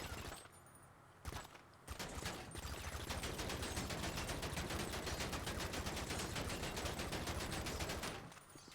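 Gunfire at a car bumper in GTA Online: a few scattered shots, then a long sustained stream of rapid automatic fire that cuts off near the end.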